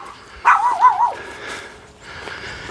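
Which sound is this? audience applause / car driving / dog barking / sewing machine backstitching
dog barking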